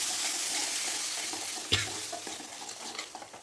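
Masala for a vegetable biryani sizzles steadily in a hot pan while a spoon stirs it, one louder scrape of the utensil against the pan standing out midway, with no talk over the frying.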